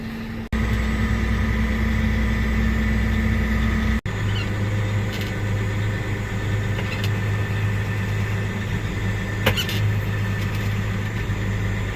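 A large diesel tractor engine idling steadily nearby, a constant low rumble with a couple of brief clicks and faint background bird calls.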